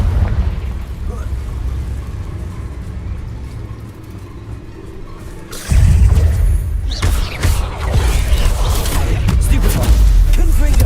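Confringo, the fiery blasting spell in Hogwarts Legacy, lands with a sudden loud booming explosion midway through, after a rumbling game backdrop, followed by sustained crackling and blasts; a voice calls out over it.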